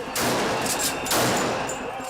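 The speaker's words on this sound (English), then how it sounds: "Tear gas and rubber bullets hound the protesters." Police fire rubber bullets and tear gas at protesters, a dense stretch of loud cracking shots and bursts over a roaring crowd din, with two stronger surges of fire.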